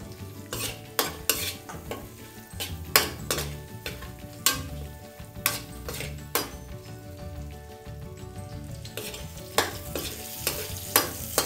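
Ginger sautéed in a pan for tocho bangus sizzles while a utensil scrapes and clinks against the pan in repeated sharp strokes, the frying hiss steady underneath.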